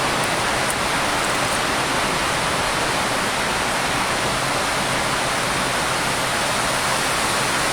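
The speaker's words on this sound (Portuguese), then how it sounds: "Aqui a chuva está derramando" Heavy rain pours down in a dense, continuous broadband hiss, loud and unbroken throughout, with no voices and no distinct individual drops standing out.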